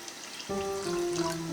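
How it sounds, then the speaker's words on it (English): Water pours steadily into crepe batter, its pitch rising slightly as it fills, a continuous close splashing stream with no talking. "Add 40 centiliters of water."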